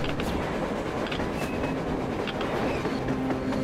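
A train rolls past in the Metro Exodus game, a steady loud rumble of rail cars with faint clickety-clack, continuous throughout with no talking.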